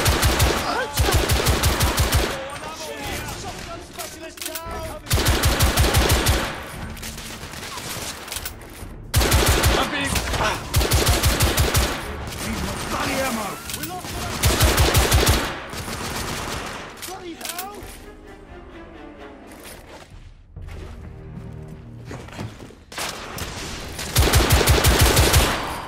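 Heavy gunfire in The Order 1886 video game: repeated long bursts of loud machine-gun fire alternate with shorter volleys and brief lulls, with shouted voices heard between and over the shooting.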